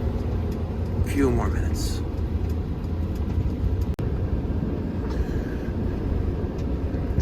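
Car driving along hilly country roads, a steady low road and engine rumble running throughout, with someone talking briefly over it near the start.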